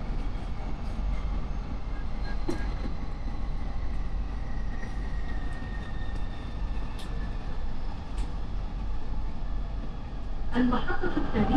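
Riding a metro train in Saudi Arabia: a steady low rumble and hum of the moving carriage fills the whole stretch, with faint clicks and a brief clatter near the end.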